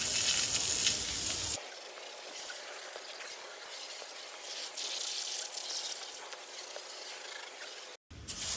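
Water from a hose rinses a teak surface after cleaning with a teak cleaner, a steady broadband spray and splatter running continuously at close range before cutting off briefly near the end.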